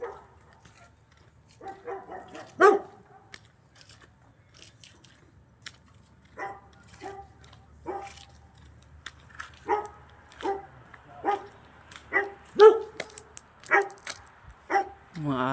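Dogs barking from neighborhood yards in a Slovak village, a series of sharp barks and yips at varying distances, irregular and spread across the stretch, with quieter gaps between bursts.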